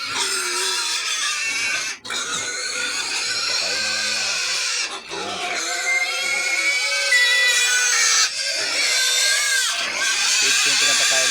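Pigs on a farm feeding, with recently farrowed sows among them, give loud repeated squeals and grunts in bursts with brief pauses, close and busy, while someone talks over the noise.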